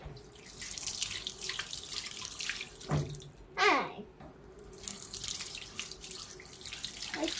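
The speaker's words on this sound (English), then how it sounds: "I just washed my hands." A tap runs while hands are washed in a public toilet in Dubai: a soft, steady water hiss with splashing, a brief louder gush and sharp clatter midway, then the flow continuing quietly.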